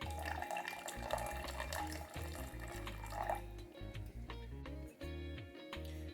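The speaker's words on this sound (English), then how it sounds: "I want about 400 milliliters of warm water." Warm water runs steadily from a kitchen tap into a vessel for sandwich bread dough, a continuous close splashing stream lasting the whole stretch with slight shifts in flow, mixed with some low background rumble.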